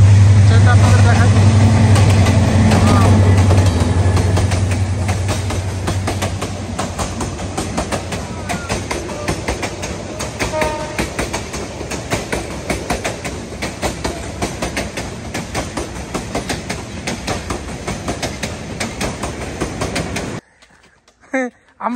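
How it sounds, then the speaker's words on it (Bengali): A train on the railway in Sreemangal, a loud low rumble at first easing into sustained clattering of wagons rolling past close by, with people talking over it before it cuts off. "ট্রেনটা আপনাদের দেখাই।"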